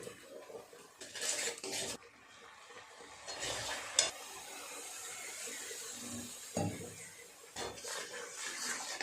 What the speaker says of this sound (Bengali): অল্প একটু জল দিয়ে খুব ভালো করে মশলাটাকে কষিয়ে নিতে হবে।